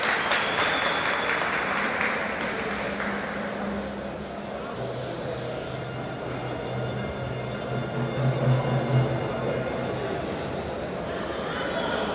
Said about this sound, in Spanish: Los aplausos para arengarla.